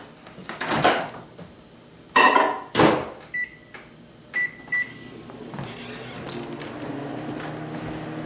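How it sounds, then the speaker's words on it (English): Microwave door clunks open and shut, keypad beeps sound twice, then the oven starts with a steady low hum. "stick this in the microwave over here"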